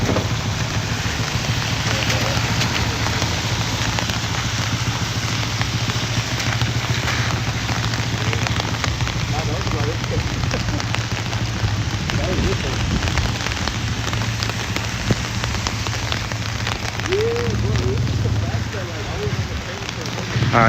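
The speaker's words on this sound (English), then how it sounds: "I love the rain walks, but they're also difficult." Steady, dense rain patters on surfaces throughout, a constant hiss close by with occasional louder drops.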